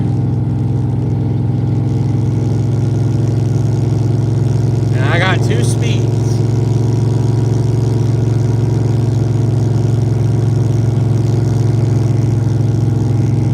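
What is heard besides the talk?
loud car engine idling, car named Brown Sugar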